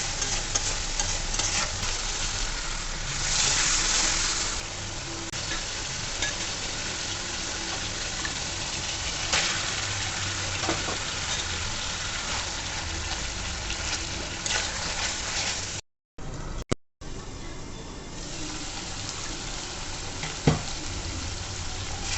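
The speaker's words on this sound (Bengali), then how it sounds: "লবণ শুকনো মরিচ গুঁড়া ভালো করে মশলাটা কষায় নিতে হবে" Spice masala with salt and dried chili powder frying and being stirred in a pan, a steady close sizzle with scraping strokes, briefly cutting out for a moment.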